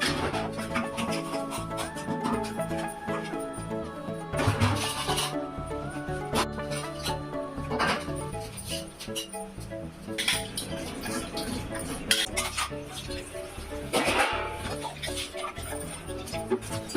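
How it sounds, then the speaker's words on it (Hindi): Washing a big pile of dishes, pots and pans at a home sink: steady clatter of metal utensils knocking and scraping, rubbing and scrubbing with occasional louder clanks, close and continuous. "इधर देखिए बर्तनों का कितना ढेर लगा रखा है, तो बस अब बर्तन साफ़ करने जा रही हूँ।"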